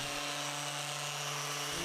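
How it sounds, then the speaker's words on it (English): A random orbit sander whirs steadily against scaffold board wood, a continuous buzzing whine at a constant pitch throughout. "sanded with my random orbit sander to remove all of the sanding marks left by the belt sander"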